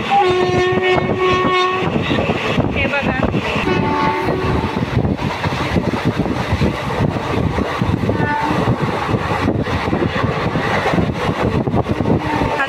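Passenger train rolling toward Lonavla: a loud, steady rumble and rattle of the carriages, with a horn sounding near the start and a brief spoken word over the din.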